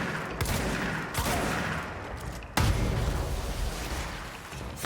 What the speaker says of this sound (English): I didn't even realize I had switched to the shotgun.